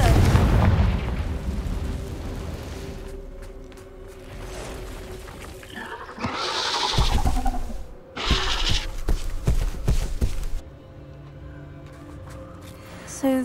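Confringo spell blasts inside an Acromantula cave in a Hogwarts video game, with heavy rumbling explosions and bursts layered over game sound and a brief spoken spell.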